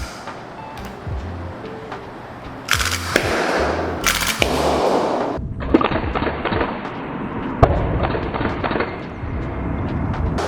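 A Northeast Sten gas blowback airsoft gun fires in loud sharp bursts, with dense rapid popping runs and clacking single shots at close range, and no voices heard.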